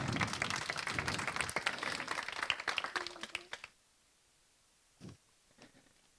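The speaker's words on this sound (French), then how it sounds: "on peut l'applaudir, bravo" An audience at an AI and HR award ceremony applauds a prize winner, with loud, dense clapping for several seconds that stops abruptly, followed by near silence and a couple of faint thumps.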